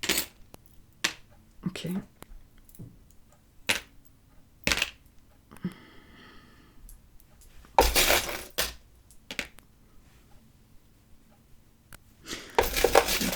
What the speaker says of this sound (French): je vais essayer qu'une breloque tombe plus ou moins sur une carte